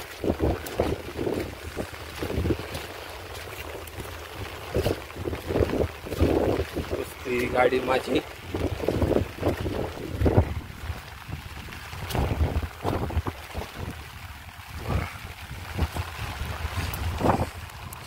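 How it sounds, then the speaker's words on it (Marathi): Strong wind gusts batter the microphone in repeated loud bursts while people talk nearby, with water sounds in the background. "मस्त वारो खूप लागता जबरदस्त वारो लागता"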